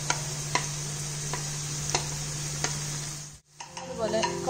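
Chopped garlic and ginger sauté in a pan for Kerala-style chicken roast, a steady close sizzle with periodic clicks of a spoon stirring, briefly cutting out before the frying resumes.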